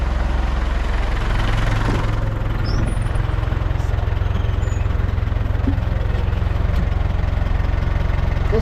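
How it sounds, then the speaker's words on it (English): An International tractor engine idles steadily and revs slightly to power a log splitter, a continuous loud low rumble with no talk. "once I turn on the switch in the international and rev it up a small bit"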